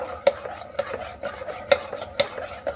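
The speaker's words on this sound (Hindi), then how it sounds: "और इसे इस तरह से हम कंटिन्यूसली चलाते रहेंगे ताकि इसमें जो है आटे की गुठलियां ना पड़ें" A spoon stirs flour into sarson da saag in a pan, giving sharp repeated scrapes and clinks roughly every half second over a faint bubbling sizzle, close and alone.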